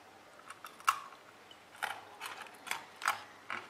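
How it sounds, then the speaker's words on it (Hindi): Homemade crunchy dry fruit stick bar snapped and chewed close up, a series of sharp, dry crunches spaced irregularly over a quiet background, with no talking. "मैं थोड़ी सी आपको खा के भी दिखाती हूँ कि कितनी क्रंची आवाज़ आती है इसमें।"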